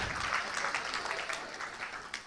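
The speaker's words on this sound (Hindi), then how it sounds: "तो आप अपने लिए स्वयं भी क्या बजा लीजिए, एक ताली।" An auditorium audience gives a round of applause at a devotional gathering, many hands clapping together in a steady, fairly soft wash that stays fairly even for a couple of seconds.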